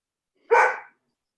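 A single short, sharp dog bark rings out alone during an online village board meeting, close and fairly loud, with silence before and after.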